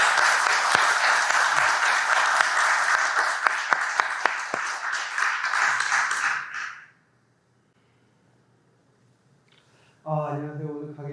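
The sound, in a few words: audience applause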